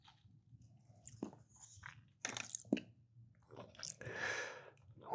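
Crunchy Captain Crunch cereal chewed with milk, close and moist, with several bursts of crunching and soft squishing spread through the clip and no talk.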